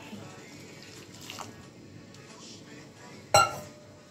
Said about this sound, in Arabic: معايا بقى يا حبايبي الميه المغليه انزل بها اهيت على الرز.